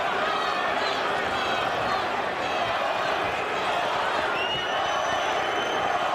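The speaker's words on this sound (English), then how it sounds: "Crowd is chanting, Vitali, Vitali, Vitali" A large arena crowd at a Klitschko versus Sanders heavyweight boxing bout roars and chants in a dense, sustained wall of voices, rising and falling without a break.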